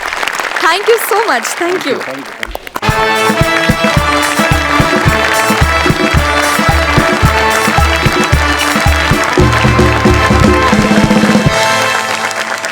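A theatre audience at a Marathi stage comedy show applauds the sets and props loudly and steadily over rhythmic music, while a voice briefly thanks them.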